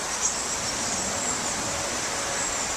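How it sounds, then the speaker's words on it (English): Soft, steady rustling hiss of leaves stirring in trees in a breeze, continuous and fairly faint with no other sounds. "That rustling sound, that's the sound of a power station of the future."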